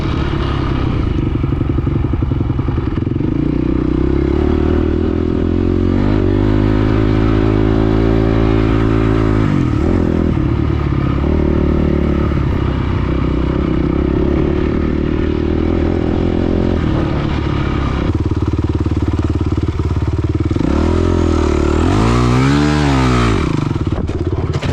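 Dirt bike ridden hard around a motocross track in practice, its engine loud and close throughout, revving up and dropping off through the throttle with clattering over rough ground and no talk.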